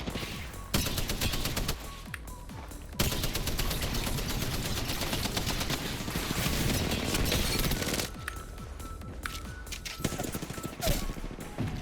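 Gunfire in the video game Apex Legends, with long bursts of rapid automatic fire and scattered single shots that are dense and loud throughout, while players talk over it.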